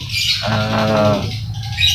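A male lovebird gives a single harsh, raspy squawk lasting under a second, close and fairly loud, with brief chirpy noises before and after.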